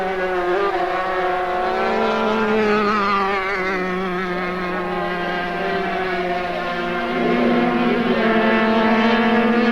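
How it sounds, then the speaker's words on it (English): Superkarts race at Silverstone and accelerate hard out of Abbey through fifth and sixth gear, a loud, continuous high-pitched engine whine rising and holding steady with gear changes, no voices. "Through 5th gear, up into 6th. Accelerating as hard as possible out of Abbey."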